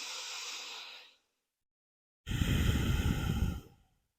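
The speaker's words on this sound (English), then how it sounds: "take a deep and calming breath through the nose." Two close, airy breaths. A softer one fades out, then after a pause comes a louder, deep, slow calming inhale drawn through the nose, lasting over a second.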